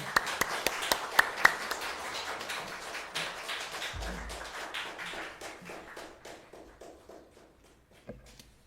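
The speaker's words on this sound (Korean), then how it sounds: "우리 목사님 나오실 때 다 같이 박수로 환영하겠습니다" Congregation clapping at a Sunday worship service to welcome the pastor: a run of crisp, fairly regular claps that start sharp and gradually thin out and fade, with a few softer sounds in the background.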